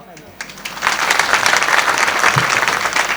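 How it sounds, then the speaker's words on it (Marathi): Audience clapping at a Ram Navami kirtan, building from scattered claps into steady, full applause from a large crowd, loud and sustained. "टाळ्या वाजल्या म्हणजे फिक्स"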